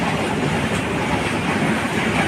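Lalmonirhat Express passenger train running past up close, a loud, steady roar of rolling wheels and rail clatter filling the whole stretch with no voices.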